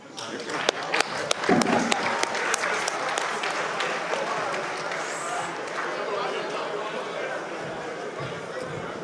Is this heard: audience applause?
yes